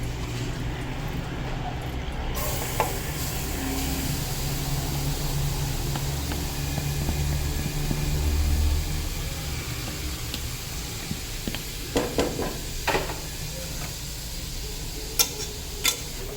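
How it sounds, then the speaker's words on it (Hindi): Carrots stirred and frying in ghee in a pan, a steady low sizzle with stirring scrapes and a few sharp utensil clicks near the end, no talking over it. "गाजर को थोड़ा सा भून लेंगे घी के साथ"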